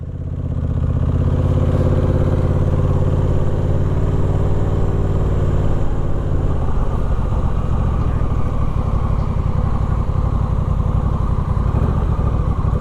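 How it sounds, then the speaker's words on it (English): Motorcycle on the Shenandoah Skyway rumbling loud and close, a rough engine drone that holds steady throughout without talk over it. "Another bike. Lots of bikes out today."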